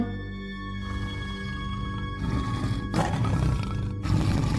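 A deep, rumbling tiger roar swells and builds over a few seconds, loud and close, with no talking.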